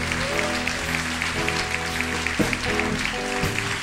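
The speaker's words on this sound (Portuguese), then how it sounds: "Vamos aplaudir nosso Deus." Congregational applause in a church, a soft wash of clapping blended with sustained musical tones from the worship band, steady throughout.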